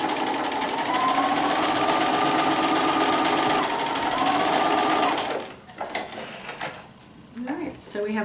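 A sewing machine stitching a seam on a quilted table runner, running as a steady, close, fast mechanical whir for about five seconds, then stopping amid handling clicks and rustle while a voice talks over it.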